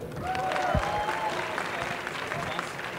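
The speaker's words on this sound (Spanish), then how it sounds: "Por eso están aplaudiendo tanto." Applause from the audience at a startup pitch roast event, a steady dense wash of clapping lasting about three seconds with some voices and whistles mixed in.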